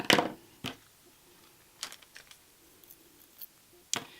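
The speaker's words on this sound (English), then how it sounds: "You cut your diamond wrap." Scissors snip through diamond wrap for a Dollar Tree Valentine craft, giving a few sharp, close cutting clicks, with the loudest at the start and end and softer rustles between in a quiet room.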